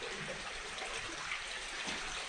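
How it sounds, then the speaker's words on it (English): A small river runs through a timbered section of the multi-level Big Horn Mine, giving a steady, broad wash of flowing water that holds evenly throughout, with no voices over it. "There's a little river running through here."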